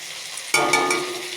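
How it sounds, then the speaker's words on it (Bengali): Shrimp hit a hot pan and burst into a loud, close sizzle about halfway through. The hissing frying continues steadily to the end, with no talk. "এই দেখো, চিংড়ি মাছ ভাজছি।"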